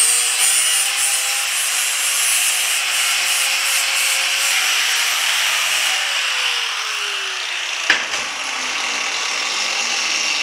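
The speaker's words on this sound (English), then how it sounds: "I'm going to hit the edges with a flap disc." A flap disc grinds the edges of cut steel armor plates in a blacksmith shop, a steady loud abrasive whine that drops in pitch as it loads up, with a sharp clank near the end.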